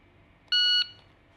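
A single electronic shot-timer start beep for a 10-round shooting skill check, loud, clean and steady for about a third of a second, then a faint tail against quiet background.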